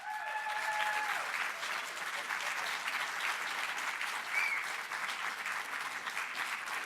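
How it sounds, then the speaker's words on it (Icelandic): Sustained audience applause fills the hall at a welfare-department knowledge day event, a dense steady clapping that holds at even loudness throughout with no voices over it. "skulum gefa Regínu Ásvaldsdóttur alveg rosalega gott klapp"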